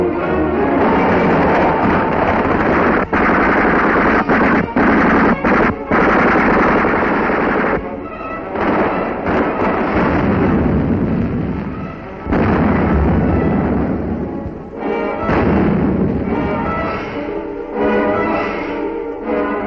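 Sustained machine-gun bursts and heavy artillery fire from a Soviet war film about a river crossing under enemy fire, loud and dense, with rapid rattling volleys punctuated by booming blasts and no talk.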